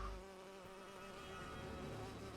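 Steady insect buzzing of bees in the video game Lego Lord of the Rings, droning continuously at moderate loudness with a faint electronic, game-like quality.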